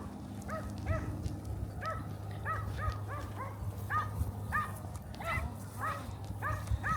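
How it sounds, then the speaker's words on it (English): A German Shepherd barks repeatedly in short, sharp bursts at an uneven pace, moderately close, over a constant low hum during a boundaries training session. "Dog's barking."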